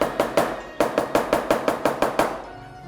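A Chinese cleaver strikes a cutting board about a dozen times in quick, regular blows, crushing food with sharp, close thuds.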